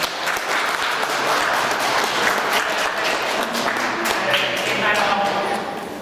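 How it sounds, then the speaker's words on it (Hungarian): Parents and escorts at a youth football tournament's closing event applaud the young players, with steady, dense clapping from a crowd throughout, loud and sustained. "kérném a szülőket, illetve a kísérőket, hogy azért tapsoljuk meg a srácokat"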